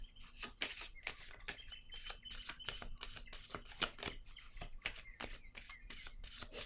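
Playing cards are handled and shuffled in quick, crisp riffling snaps, a rapid run of soft papery clicks that stays quiet and close, with no speech.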